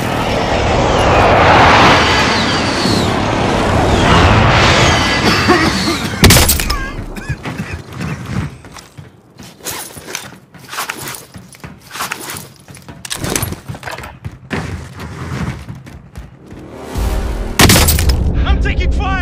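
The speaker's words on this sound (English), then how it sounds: "Be advised, friendly precision airstrike inbound." Precision airstrike explosions in the Call of Duty Warzone video game, Rebirth map: a dense run of loud booms and blasts, with a strong impact about six seconds in and another near the end, under a steady battle din.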